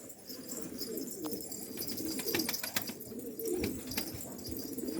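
Sarı Macar and Sarı Güllü pigeons coo steadily at close range, with low rolling calls over a constant background hum and a few faint chirps.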